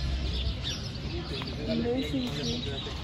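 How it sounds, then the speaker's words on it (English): Small birds chirp and call high in the branches of the huge Tule tree in Oaxaca, scattered bright tweets over a steady outdoor background hum, with no voices. "There's birds living up there."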